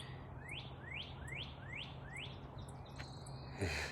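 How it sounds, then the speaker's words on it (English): A bird sings a quick series of about seven rising, sweeping chirps at a steady pace over a low constant hum, ending with a brief rustle. "Listen to that."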